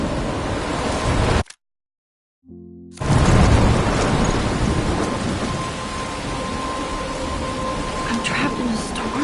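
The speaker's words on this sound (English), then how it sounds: "I'm trapped in a storm?" A thunderstorm in the game Life Is Strange: heavy rain and rumbling thunder roar loudly, cut by a sudden silence of about a second before a low tone and the storm returning even louder.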